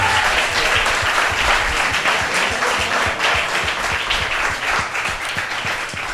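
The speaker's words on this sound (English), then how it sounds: "Give that man an applause." A large comedy-show audience claps loudly and continuously, a thick wash of applause with scattered individual claps standing out, steady throughout with faint voices underneath.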